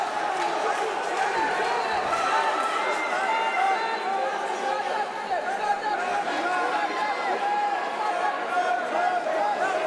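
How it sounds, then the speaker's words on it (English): A wrestling crowd reacts during a Madsen versus Tyrie bout with a dense, continuous roar of voices and cheering that stays loud throughout, and no single voice stands out. "you can hear the crowd response to Tyrie here"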